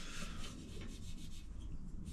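A surface is rubbed to clear loose debris before painting, making a continuous, fairly quiet scrubbing and rasping sound with faint rhythmic strokes and no speech.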